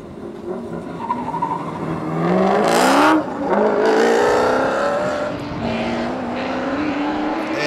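Drift car under power at Pukekohe Park Raceway during D1NZ Pro-Sport qualifying on the sweeper, engine wailing through rising gear-like pitch sweeps with tire squeal, swelling loud in the middle then easing off.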